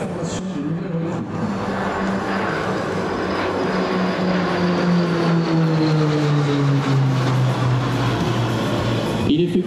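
A Conair Turbo Firecat Tracker firefighting propeller airplane roars past at high speed, its engine drone sliding downward in pitch as it passes close by, loud and steady throughout.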